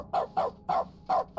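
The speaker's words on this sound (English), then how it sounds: "My bucket now barks." Five quick, evenly spaced dog barks ring out from a magic bucket in the video game The Stanley Parable, close and clear against a quiet background.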